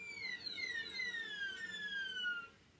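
A cello imitating seagulls: high, thin gliding tones sliding downward in repeated wailing cries, fairly quiet and alone without talk.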